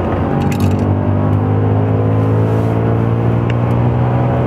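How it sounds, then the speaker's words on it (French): An Audi race car's engine drones loud and steady from onboard at full throttle on the Barcelona Catalunya circuit, with a strong low roar that barely changes. No voices are heard over it. "Allez, on continue à accélérer sans problème."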